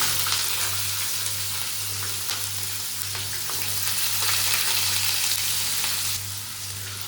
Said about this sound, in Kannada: ಇದಕ್ಕೆ ನಾನು ಈರುಳ್ಳಿ ಹಾಕ್ತಾ ಇದ್ದೀನಿ